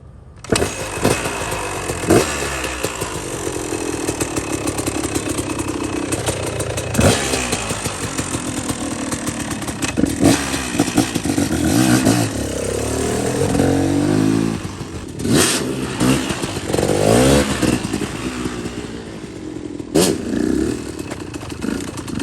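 A KTM motorcycle engine runs close by, idling with a rough clattering burble and rising into several sharp revs at intervals before dropping back to idle.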